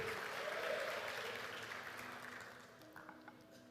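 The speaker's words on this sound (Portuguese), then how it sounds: "Você pode aplaudir ao Senhor?" A church congregation applauds together during a worship service, a dense wash of clapping that swells early and then gradually fades over a few seconds.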